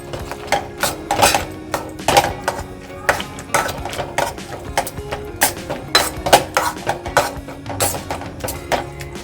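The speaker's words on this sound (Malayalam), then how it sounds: "ഈ വെജിറ്റബിൾസ് എല്ലാം ഇനി നമുക്കൊന്ന് ഉടച്ചെടുക്കാം." A masher strikes cooked vegetables for pav bhaji in a metal pan, producing repeated close clanks and taps in an uneven rhythm that carries on throughout.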